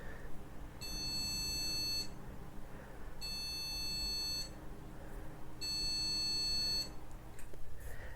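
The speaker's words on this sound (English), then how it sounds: "5 beeps means processor failure" A PC motherboard sounds its processor-failure error code, three long electronic beeps of about a second each with short gaps between, faint and tinny through a small plugged-in speaker, with no talking.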